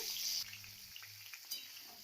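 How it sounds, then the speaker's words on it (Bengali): Potatoes and beans frying in oil in a pan after cauliflower was fried in it, a close, brief hiss of sizzling with a soft low hum beneath. "এখন ওই তেলের মধ্যেই আমি আলু আর শিমটাও ভাজা করে নেব।"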